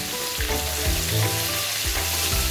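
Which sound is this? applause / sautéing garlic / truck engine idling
sautéing garlic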